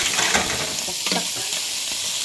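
Mushrooms sautéing in a pan over onions for a spinach-mushroom orzo risotto, a steady soft sizzle with a few stirring scrapes, close and continuous with no talk.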